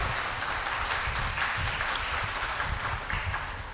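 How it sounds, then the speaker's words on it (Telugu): A church congregation claps loudly and continuously in praise to God, a dense, close, steady roll of many hands that fades slightly at the end. "గట్టిగా చప్పట్లు కొట్టండి, గట్టిగా దేవునికి స్తోత్రం"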